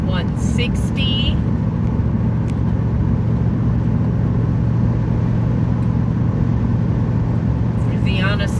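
A car driving down Route 160, a steady loud engine and road rumble from inside the vehicle, continuous throughout with faint higher noises at the start and end.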